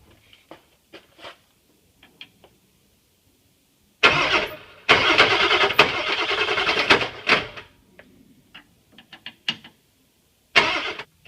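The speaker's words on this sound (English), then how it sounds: "So I'm going to crank this over a whole lot, check for leaks" A 7.3 Powerstroke diesel engine cranks over after a fuel pump replacement, with a long loud burst of starter-driven churning mid-clip, a short crank near the end, and quieter clicks and mechanical knocks in between.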